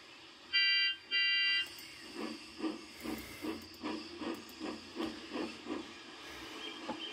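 Little steam tank engine puffing along rhythmically at a quiet pace, a string of regular chuffs and hisses after a short shrill two-burst tone at the start, moderately close over a faint background.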